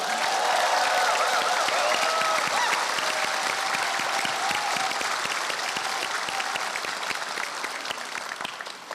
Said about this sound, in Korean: 안철수 공동대표에게 여러분 뜨거운 박수를 보내주십시오